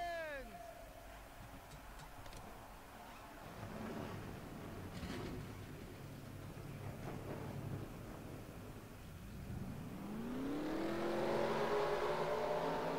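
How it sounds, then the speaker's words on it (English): Stock-car engines from a NASCAR racing video game at Bristol rumble through the stretch, rising into a loud, sweeping rev near the end, with a voice talking over much of it. "Drivers, start your engines!"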